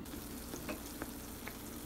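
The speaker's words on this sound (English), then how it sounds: "We're just frying our first one." Food frying in a pan in a home kitchen, a steady sizzle with faint crackles and a few soft utensil clicks, fairly quiet and continuous with no talking.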